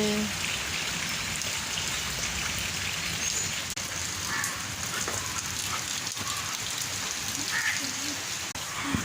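Steady, dense rainfall pattering on surfaces, a continuous hiss with scattered drops, no voices.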